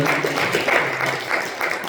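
A church congregation claps as an offering of applause to the Lord, a steady patter of many hands at moderate loudness for a couple of seconds.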